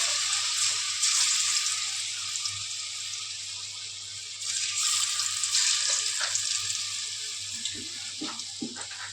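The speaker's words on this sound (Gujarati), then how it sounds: "આપણું તેલ ગરમ થઈ ગયું છે. તો હવે એને ચીપ્સ આવી રીતે નાખતા જશું થોડી થોડી." Potato chips fry in hot oil, a steady bright sizzle that swells as more pieces go in, with occasional soft knocks and clatters from the pan.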